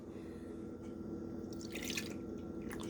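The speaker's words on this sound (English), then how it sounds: "Take the milk, pour it in there." Milk poured into pancake batter in a home kitchen, a quiet liquid trickle with a brief, slightly louder splashing burst near the end, heard close up against low background hum.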